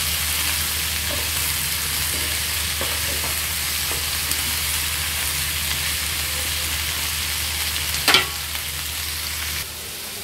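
Chicken frying and sizzling in a pan in a home kitchen, a steady hiss with a few faint stirring scrapes and one brief clatter near the end; moderately loud and constant, with no talk.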